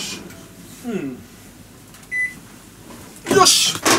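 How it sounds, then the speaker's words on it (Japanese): A microwave oven hums while it heats ready-made meatballs, then gives a short electronic beep partway through, with a louder clatter near the end. "電子レンジで温めただけというですね"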